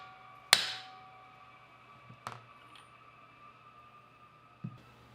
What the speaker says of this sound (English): Use a rubber mallet until the tool is fully seated onto the crankcase.